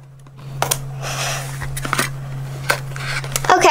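Scissors snipping through tape on a small tin collectible pail package, a few short crisp cuts and rustles close by over a steady low hum, with no talk.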